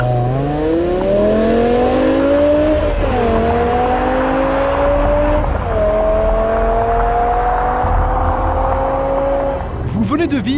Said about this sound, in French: Vous venez de vivre l'expérience du Launch Control, une fonction de départ automatisée comparable à celle qu'utilisent les pilotes de la Williams BMW